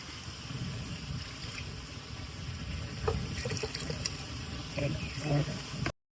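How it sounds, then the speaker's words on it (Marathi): Hot water is poured into a plate of ground Malvani masala, a faint, low trickle with scattered soft clinks and splashes over a quiet background. "त्याच्यात मी पाणी थोडासा या वाढवलंय, म्हणजे थोडासा पाणी घातलंय"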